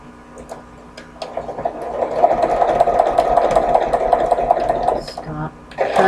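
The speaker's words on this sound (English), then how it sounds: "I'm going to do a tiny little zigzag stitch there." A sewing machine runs a tiny zigzag stitch, whirring steadily for several seconds after a quiet start, then stopping briefly and starting again, with close, fairly loud mechanical hum.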